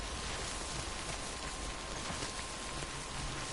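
Steady rain falling in Death Stranding, a constant hissing wash of droplets with soft patters underneath, even and unbroken with no voices.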